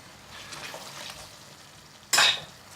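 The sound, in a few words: stirring chicken korma sauce with base gravy in pan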